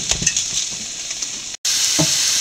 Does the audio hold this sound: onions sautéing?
yes